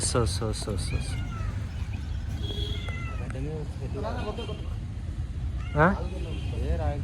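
A stray cat trapped in a well meows repeatedly, high and plaintive, over a loud rumbling engine-like drone with people talking nearby.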